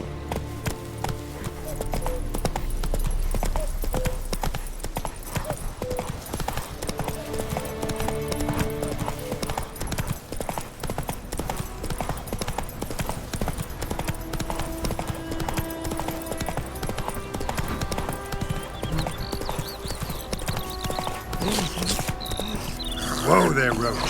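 Hooves of Roach, Geralt's horse in The Witcher 3 video game, clop in a steady rapid rhythm across the ground, loud and continuous, with a voice speaking over the hoofbeats.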